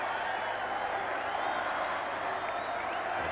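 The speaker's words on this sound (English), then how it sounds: "they're going to cheer until they're hoarse" A vast outdoor crowd cheers and applauds at the 1981 royal wedding balcony appearance, a continuous distant roar with scattered higher shouts, even and unbroken.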